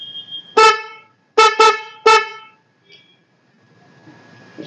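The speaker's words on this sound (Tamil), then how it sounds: "இந்த ஹார்ன் காட்டு" A Splendor motorcycle's horn: four loud, short honks, one single then a quick pair and another, close by, followed by faint background noise.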